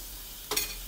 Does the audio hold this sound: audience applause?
no